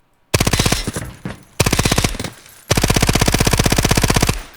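An MP7 submachine gun firing in the video game Delta Force: three loud, close, sustained full-auto bursts of rapid even shots, separated by brief pauses.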